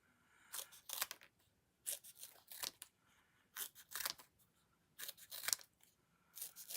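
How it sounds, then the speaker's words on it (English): Scissors snip through a strip of watercolor paper in quick bursts of two or three crisp cuts, with short quiet pauses between them, close and fairly faint. "So let's cut a strip here, and then I can cut smaller pieces."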